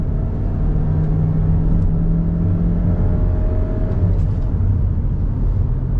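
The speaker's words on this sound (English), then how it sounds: "On throttle, here we go. Up the hill, downshifts, and we are off and running." A 2022 GMC Terrain with a turbo engine and nine-speed automatic climbs a hill under throttle, its engine note rising steadily and shifting down in a smooth, continuous drone heard from inside the cabin.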